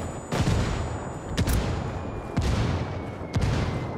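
Gunfire in the multiplayer shooter Ghost PvP: several booming bursts of shots and impacts, each hitting hard then decaying, spaced irregularly over a continuous rumble of battle noise, with no talk.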